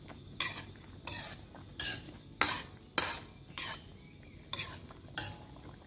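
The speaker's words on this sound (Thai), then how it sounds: "คนทุกอย่างให้เข้ากันดีเลย" Spoon stirring catfish om curry with fish sauce and fermented fish sauce in a pot: eight sharp scraping strokes at a steady rhythm, close and clear, with no talking.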